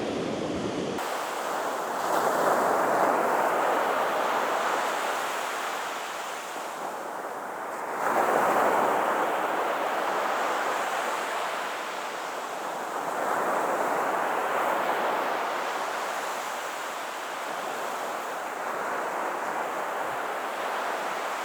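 Waves break on a beach in slow, repeating surges that rise and fade every few seconds, with steady wind buffeting the microphone throughout.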